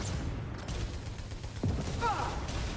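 Enemy gunfire in the PS5 sci-fi shooter Returnal: a sharp, sweeping shot lands near the middle, then a whistling, warbling burst follows over a steady bed of game ambience.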